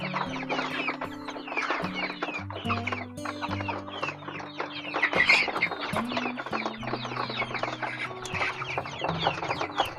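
Chickens on a farm cluck and chatter busily at close range, many overlapping short calls in a continuous flock murmur, with no talking.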